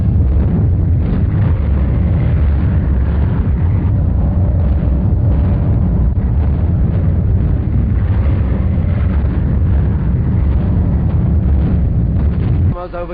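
Explosions from RAF bombing of Nazi strongholds in 1943 newsreel footage form a dense, continuous low rumble and roar with a muffled, bandwidth-limited archival quality.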